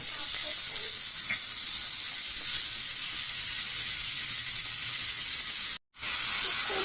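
Onions fry in a pan, giving a constant bright sizzle with a few faint stirring scrapes, steady and close, with a brief cut to silence near the end; no one talks.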